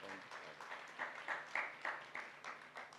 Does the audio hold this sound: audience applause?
yes